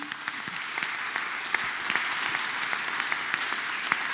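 A church congregation at a joint district fellowship gathering claps together in steady, even applause that holds for several seconds, a soft wash of many hands with a few sharper claps standing out, and no talking.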